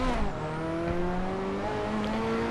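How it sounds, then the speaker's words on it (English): Racing cars in a Hot Wheels Universe race roar through a noisy overtake, loud engines holding steady and pitching up and down together across the whole stretch. "A very noisy overtake, as Byrne moves up a place on Dusty, and sort of just, like, intimidates Governo"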